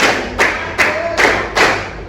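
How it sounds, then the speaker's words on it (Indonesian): A group claps in unison in a counted sequence, each sharp, near hand-clap landing as a separate burst at an even, steady pace, with quiet gaps in between. "Tepuk 1, tepuk 2, tepuk 3, tepuk 4, tepuk 5."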